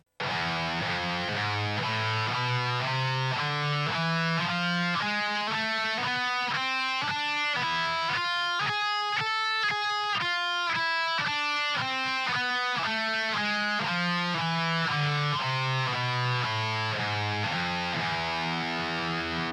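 Distorted metal electric guitar runs the E Phrygian Dominant scale in open position, a steady stream of single notes climbing up and then descending back down, thick and saturated throughout with no speech.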